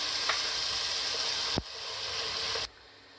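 Chicken shashlik mixture with tomato paste sizzling and frying in a pan, a steady close hiss that softens partway through and drops sharply near the end, with a brief clatter in the middle.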